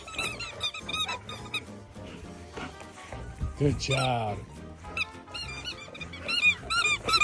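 Dogs squeeze brand-new squeaky toys while unwrapping gifts indoors, producing repeated bursts of high, sharp squeaks in quick clusters at close range, with a person talking and praising them throughout.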